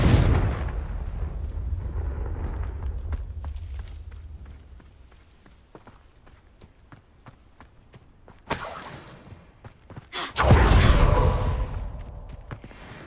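Fiery Confringo spell blasts from Hogwarts Legacy: a low rumbling game soundscape gives way to two loud, sharp explosive bursts near the end, the second louder and longer, with no talking.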